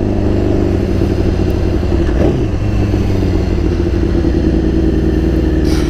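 BMW S1000RR sport motorcycle with an aftermarket E4 end can exhaust, a steady close engine drone heard while riding, with continuous low rumble and no speech.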